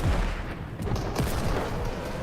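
Rapid gunfire from a hand cannon in a competitive video game match, dense overlapping shots and booms running throughout without pause.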